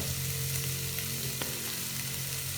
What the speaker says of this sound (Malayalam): എല്ലാം കൂടെ നന്നായിട്ടൊന്ന് വഴറ്റണം